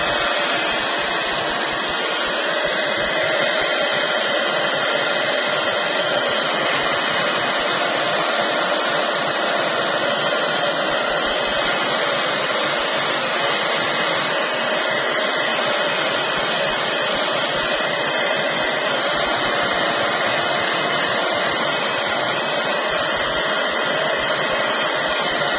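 A hair dryer blows steadily on mixed media paint, a continuous loud whooshing whir held close and unbroken for the whole stretch.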